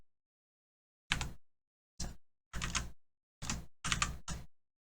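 Computer keyboard keys are pressed in six separate, crisp clicks spaced irregularly over a few seconds, close and fairly quiet against silence.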